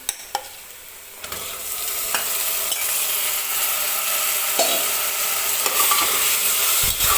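Marinated mutton hits hot oil with onions and fries with a loud, close sizzle, with utensil clanks at the start, then continuous hissing broken by scraping stirs against the pot.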